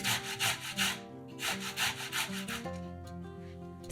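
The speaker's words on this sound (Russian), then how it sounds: "Две средних картофелины трем на мелкой терке." Two medium potatoes rubbed against a fine grater make rhythmic rasping strokes in bursts, with music playing underneath throughout.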